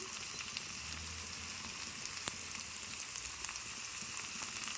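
Boiled sprouts go into masala frying in oil, giving a faint, even sizzle with scattered tiny pops and crackles throughout.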